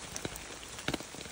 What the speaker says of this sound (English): the rain is letting up a little bit